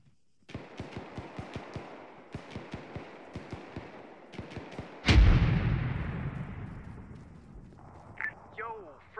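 Tank gunfire in the Arma 3 video game, in a 2004 Iraq combined-arms setting: a run of sharp rapid shots, then one loud, heavy cannon boom whose rumble fades over several seconds.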